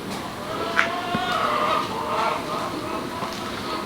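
Roosters kept in separate pens cluck and call in short bursts, moderately close, over a low background hum.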